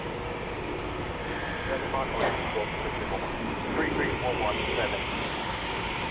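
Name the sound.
Eurofighter Typhoon FGR4 jet taking off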